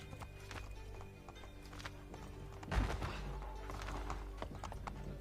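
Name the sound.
horses walking in Assassin's Creed 3, video game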